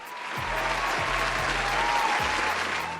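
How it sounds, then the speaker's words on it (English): A crowd breaks into applause, a dense burst of clapping that swells quickly and holds steady at moderate loudness, with low thumps underneath. "Give us a round of applause."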